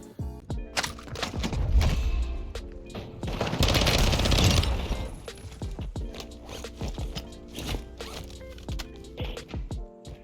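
Sustained RPK machine gun bursts in Warzone 2, dense rapid automatic fire with two long loud volleys, scattered single cracks and handling clicks in between, no talk.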